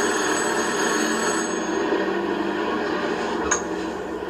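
A telephone bell rings in a steady, bright metallic trill that lasts throughout, fairly loud and close, with a small clink near the end.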